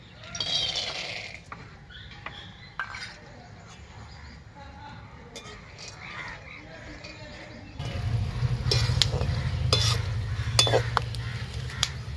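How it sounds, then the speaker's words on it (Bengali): Peanuts fry in oil in a hot wok while being stirred, with scattered metallic clinks and scrapes. A louder, steady frying hiss swells in the latter part, and someone talks nearby. "বাদামগুলো আমি আগে ভেজে নেবো"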